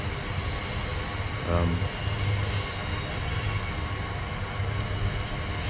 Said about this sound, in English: obviously we literally have the train track behind us, so I don't imagine this audio is going to be any good